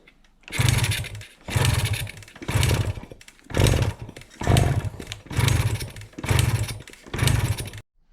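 A 1973 Kawasaki G5 two-stroke motorcycle engine revs in seven loud, buzzing bursts, each rising then cutting off with short pauses between, raspy and close with no talk.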